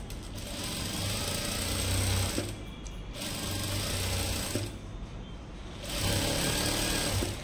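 A sewing machine runs a straight seam on a lehenga over canvas in three close, steady whirring bursts with short pauses between them, no talking.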